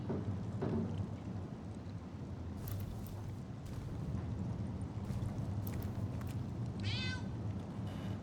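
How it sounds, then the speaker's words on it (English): A cat meows in the video game Divinity Original Sin, a short call rising over a steady ambient game drone with occasional clicks and soft effects. "Meow."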